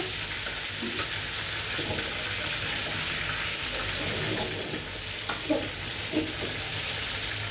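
Nearly done chicken koftas, browned red, keep sizzling steadily in oil, a close, constant crackle overlaid by scattered scraping and clacking strokes from a utensil turning and lifting them.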